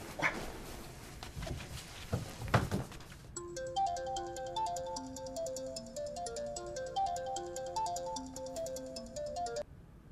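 A dog barks a few times first, then a phone's melodic ringtone plays for about six seconds, a clear repeating tune heard alone at moderate volume.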